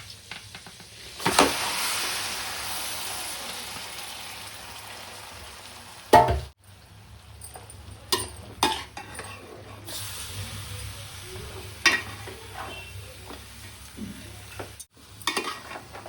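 Chicken pieces are added to melted butter in a pan and stir-fried over high heat, giving a loud burst of sizzling followed by steady frying hiss with occasional stirring scrapes and clatters.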